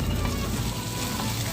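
Pork innards sizzle loudly as they fry in a pan with onion and garlic, a steady dense crackle throughout.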